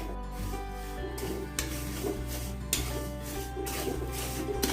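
Rice dry-roasting in a pan for chakli bhajani flour, stirred with a steady, continuous dry rasping and rubbing, with a few louder scrapes at intervals and no pause.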